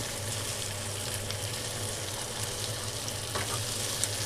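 Chicken frying in a wok, a steady dense sizzle holding evenly throughout with faint stirring scrapes, close and fairly loud.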